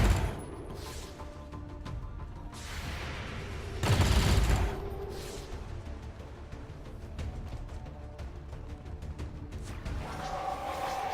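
Gunfire bursts in the strategy game Long War 2, with a heavy blast and crackling volley midway amid scattered shots and whooshing effects, moderately loud with no talk.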